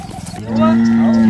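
A cow moos once, a long, loud, steady low bellow lasting about a second, close by, following a brief stretch of lower background noise.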